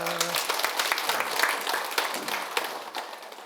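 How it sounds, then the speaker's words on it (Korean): Audience applause for someone who has done well, at a Korean talk on living without regret. Steady, moderately loud clapping fills the whole stretch with a dense crowd texture, and no voice rises above it. "이분 잘 해내서 축하 박수 부탁드립니다"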